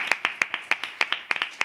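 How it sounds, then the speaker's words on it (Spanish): An audience applauds, with sharp separate claps in a quick, uneven rhythm that sound like a small group at close range. "pido un aplauso para ello"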